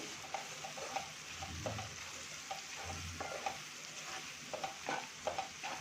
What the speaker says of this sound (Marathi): आता यामध्ये आपण मसाले घालूया छान मिक्स करून घ्यायचं